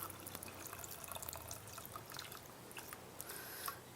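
Water running from a tap into a cooking pot, a steady close trickle and splash with small drips for boiling star fruit syrup, no talking.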